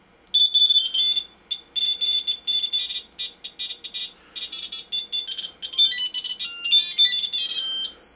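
A U1273A multimeter sounds its continuity test as the probes touch. Bright, high electronic beeps come in irregular short bursts and sustained tones, clear and close, with no talk.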